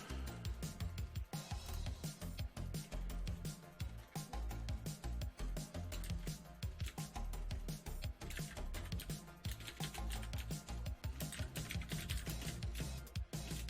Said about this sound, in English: we got some typing ASMR happening here